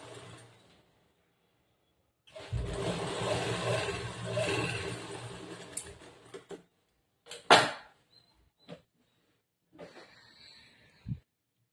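A sewing machine stitching a churidar top runs in one steady whirring stretch of a few seconds, then falls quiet apart from scattered clicks and handling knocks of the fabric and machine.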